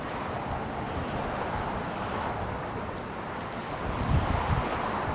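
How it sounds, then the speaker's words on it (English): Steady wind rushes and buffets across the microphone outdoors in San Francisco, a constant broadband roar that swells slightly toward the end, with no voices. "Still windy."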